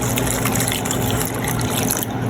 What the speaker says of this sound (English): And then I'm gonna add my cold water to it.